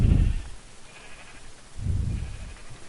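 Two low, muffled bleats from sheep in a Minecraft modpack, one at the start and another a couple of seconds later, heard fairly close with no talking.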